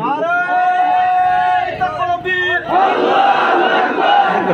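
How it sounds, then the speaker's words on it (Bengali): A large crowd at a Bengali Islamic religious sermon loudly shouts takbir in unison, a sustained chanted roar that swells, briefly dips, then surges again, filling the space at close range. "একটা জোরে তাকবীর"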